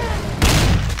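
A heavy burst of gunfire in an elephant battle video game hits as one loud, dense boom in the middle of an already noisy, cluttered mix.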